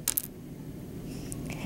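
A shale rock sample tapped, producing a short cluster of two quick clinking hits, then a couple of faint softer taps in a quiet setting.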